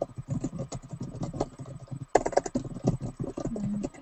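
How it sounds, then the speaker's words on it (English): Fingers tap on a computer keyboard in quick, uneven bursts of close, crisp clicks, pausing briefly midway before resuming, with no one speaking. "I was just typing something here on another website"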